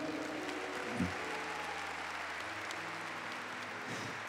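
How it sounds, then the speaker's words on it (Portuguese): Church congregation applauding during a sermon, a steady sustained round of clapping from a sizable crowd, moderately distant and even throughout. "Vamos aplaudir os nossos paraibanos ali que estão."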